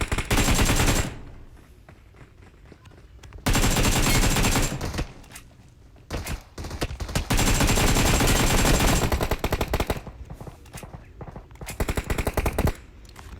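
Gunfire in the video game PUBG Mobile comes as loud bursts of rapid automatic shots separated by quiet gaps, with several long sustained volleys and some shorter clusters.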